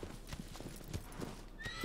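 Horse hooves clip-clopping at a gallop with a whinny, in the video game Shadow of the Colossus; steady hoofbeats under game music, with a faint neigh near the end.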